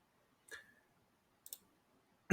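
Faint single clicks from a computer mouse, two soft ones about a second apart in a quiet room, then a louder thump right at the end.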